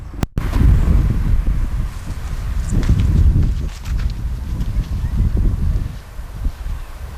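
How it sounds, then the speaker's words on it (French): Wind gusting onto a microphone outdoors, a dense low rumbling buffet that swells and eases across the whole stretch, loud and close, with no talk. "Le vent vient toujours de derrière moi"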